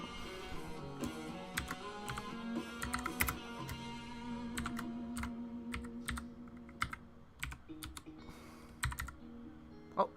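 Typing on a computer keyboard, a steady run of close, crisp key clicks with uneven rhythm and a few louder taps, heard alone over a faint background hum.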